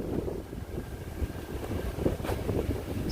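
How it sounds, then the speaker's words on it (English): Gusty wind buffets the microphone with low rumbling and fluctuating bursts, steady and fairly close. "It's windy here too,"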